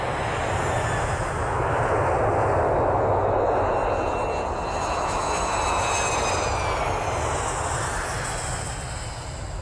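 A jet airplane in flight gives a continuous, loud roaring rush that swells slightly and then settles. The engine noise is steady and alone, with no voices.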